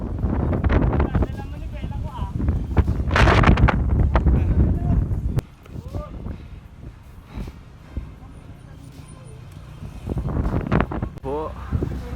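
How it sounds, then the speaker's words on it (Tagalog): Strong wind buffeting the microphone while cycling uphill at a park in Tagaytay, loud rumbling gusts for the first five seconds, then calmer with faint voices and a brief gust near the end. "Ang lakas ng hangin na."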